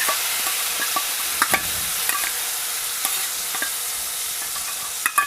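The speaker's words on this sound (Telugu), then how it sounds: "ఇప్పుడైతే ఈ చింతపండు గుజ్జుని వేస్తున్నాను. స్టవ్ కట్టించేసి వేయించుకుంటున్నాను అన్నమాట." Tamarind pulp fries in a pan with the stove turned off, giving a bright, steady sizzling hiss over scattered light scrapes and taps of stirring.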